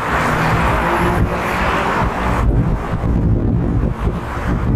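Strong gusts buffet the microphone outdoors around an apartment complex with a children's pool, a dense, loud rumbling roar that persists throughout with only slight shifts in intensity.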